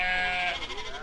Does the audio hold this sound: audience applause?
no